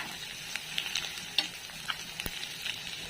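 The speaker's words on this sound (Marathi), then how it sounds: "आता आपल्याला मिक्स करून घ्यायचं या अंड्यात तर आता आपली तयार होत आली अंड्याची भुर्जी" Village-style egg bhurji with onion, garlic, coconut and spices sizzles quietly in a pan while a spatula stirs it, with soft frying crackle and several sharp scrapes and taps of the utensil.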